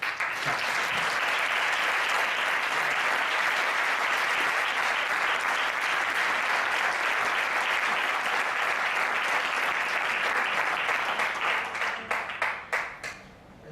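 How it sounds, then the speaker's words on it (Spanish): Sustained applause from an audience at a book presentation in Casa Colón, Huelva, steady and dense for most of the time, then thinning into a few scattered claps before stopping. "Y ahora pido un fuerte aplauso para Raúl Delgado Manzanas."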